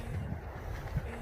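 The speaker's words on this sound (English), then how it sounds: "obviously it's so windy" Strong wind buffets the microphone in a steady low roar with gusty rumbles, loud and close, no voices.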